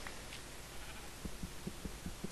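Sheep in a video game bleat faintly in the background, with a series of short, evenly spaced soft calls repeating over a couple of seconds while a low hum runs underneath.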